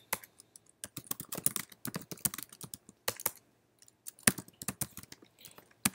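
Keys clatter as Java code is typed on a computer keyboard, with bursts of rapid close clicks broken by short pauses and no talking.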